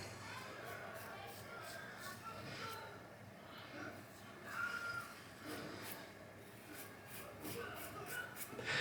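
A RazoRock Lupo safety razor shaving across the grain, producing repeated close, raspy scraping strokes in an uneven rhythm, each a short burst of gritty friction.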